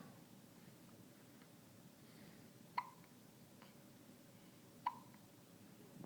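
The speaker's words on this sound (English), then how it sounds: "Somebody's got the hiccups." A baby hiccups twice, about two seconds apart, each a small sharp catch of breath, faint and close in a quiet room with a low background hiss.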